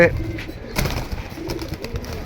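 Caged pigeons give soft, low cooing calls in short bursts close by, mixed with faint rustling and a voice in the background.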